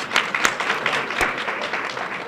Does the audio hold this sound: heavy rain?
no